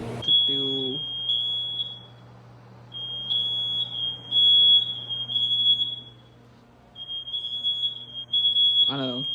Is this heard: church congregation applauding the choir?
no